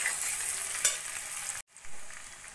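Onion, potato and tomato sizzle and fry in a pan for chana dal khichuri, a steady close crackle with a stir or scrape partway through and a brief cut before the frying resumes.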